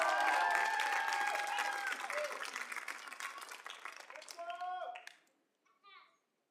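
Audience applause and cheering at a regional secondary-school talent show final in Quebec's Laurentides, a loud sustained crowd din with children's voices mixed in that fades out near the end, followed by singing.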